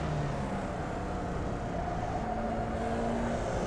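A Formula Vee race car engine drones steadily on the Charlotte Motor Speedway infield road course in the iRacing sim, a continuous mid-level hum with slight pitch shifts and no talking.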